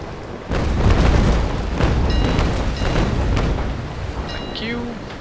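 Ship cannons fire in the naval combat game Naval Action: deep rolling booms start suddenly and continue as a heavy rumbling barrage, with faint creaks and tones over the top.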